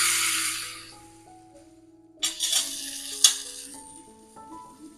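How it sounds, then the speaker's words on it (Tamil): Mustard seeds, cumin and curry leaves tempering in hot ghee give a loud opening sizzle that fades, then bursts of crackling and popping return, with stirring and a light clink of the pan. "நம்ம நெய் விட்டு கடுகு, சீரகம், கருவேப்பிலை தாளிச்சிக்கலாம்."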